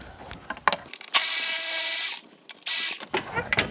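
A ratchet works a 10 mm bolt loose behind the throttle body flange on a 2007-2008 Honda Fit engine: quick clicking pawl bursts, a steadier whirring stretch, then more clicks, close up.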